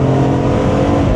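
BMW E46 M3 engine revving hard under load while driving, a loud, steady, rising mechanical roar filling the whole moment with no talk over it.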